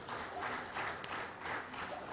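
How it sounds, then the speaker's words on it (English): Audience applause at a live-streamed National Institute event in Kuru, a steady wash of clapping that swells and eases in waves over a couple of seconds. "Please give her a big round of applause."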